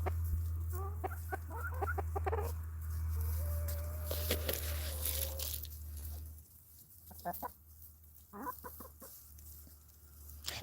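Backyard chickens, including newly added hens, cluck in short bursts close by, with softer calls and pauses between them over a low steady hum.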